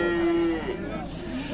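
At a livestock market in Beylagan, Azerbaijan, a pregnant cow lets out a loud, sustained moo close by that trails off into quieter lowing and market background.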